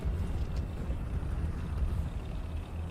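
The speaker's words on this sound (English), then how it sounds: "Those big turbine engines on the Abrams always worry me." Abrams tank turbine engine in War Thunder, a steady low droning rumble with a faint high whine, continuous and fairly loud throughout with no voices over it.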